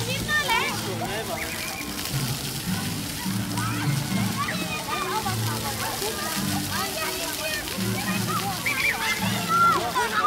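Children run and splash through water at a holiday park, with steady sloshing and splattering throughout and excited children's voices over it.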